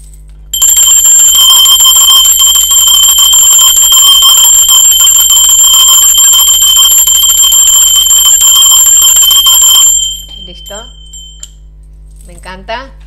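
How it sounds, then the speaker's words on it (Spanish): A bright bell rings loud and sustained for about nine seconds, then fades out, followed by a few faint vocal sounds. "Ahora sí, va campana"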